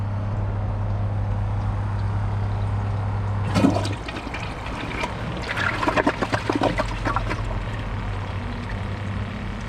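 A Kohler Highline Class 5 toilet is flushed, giving a loud close whoosh that settles into gurgling and trickling water refilling the bowl over a steady low background hum.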